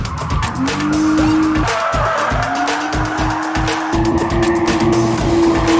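A drifting car screeches with long, sustained tire squeals over a loud, revving engine that rises and drops repeatedly, close and continuous throughout.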